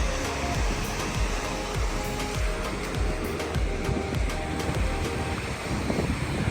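Dynjandifoss waterfall in Iceland gives a broad, continuous roar of rushing water, loud and steady, with wind buffeting the microphone and no speech.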